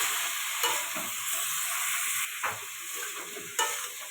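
Fried potatoes and pointed gourd being sautéed in a pan for a fish curry, with a continuous hiss of frying and a few sharp scrapes of a stirring spoon, close and fairly quiet, no voices.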